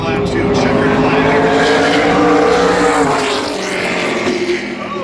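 An ARCA Menards Series race car on a qualifying lap at Berlin Raceway, a loud close engine roar with shifting pitch that fades slightly as it passes, with a commentator talking over it.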